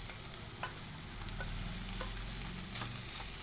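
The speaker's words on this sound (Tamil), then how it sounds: "இப்போ நம்ம வந்து வடித்து வச்ச பாசுமதி ரைஸை இதில் போட்டுக்கலாம்." Cooked basmati rice is stirred into sautéed onions in a pan for pepper rice. A soft steady sizzle runs under a few light, evenly spaced spatula scrapes, and no one speaks.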